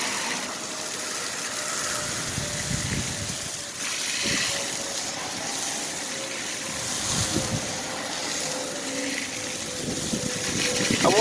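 A steady spray of water rinses wheel cleaner off a car wheel, a continuous hiss with a faint tonal hum and occasional splashes throughout.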